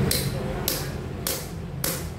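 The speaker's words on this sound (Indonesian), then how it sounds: "tinggal kita palu-palu saja" Hammer blows driving a cut piece of shock absorber tube onto a motorcycle clutch hose fitting, four sharp metallic strikes spaced at a steady rhythm, close by and loud over a low background hum.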